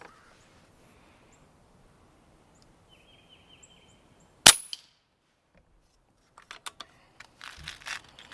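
A single sharp, loud shot from a Brocock Sniper XR Magnum air rifle fitted with a 0dB moderator cracks out of near silence, followed by a few scattered clicks and light mechanical handling noises.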